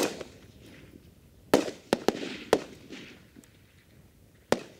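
Rifle shots crack out on a Marine Corps boot camp rifle range, five sharp reports spaced irregularly over a few seconds, moderately distant, with faint ambient noise between them.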